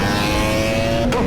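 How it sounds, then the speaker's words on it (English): A GSXR 1000 sport motorcycle roars loudly and steadily close by, its exhaust crackling with pops, a brief dip in the engine note near the end. "I know y'all hear those pops."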